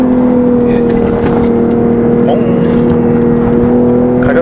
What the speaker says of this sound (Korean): 이런 부분에서는 확실히 내연기관다운 소리를 내네요